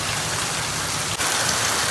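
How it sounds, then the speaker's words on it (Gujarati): Steady rain patters evenly on surfaces at a farm, a dense continuous hiss with a brief dip partway through and no voices. "દસ વરસાદ ચાલુ છે અત્યારે."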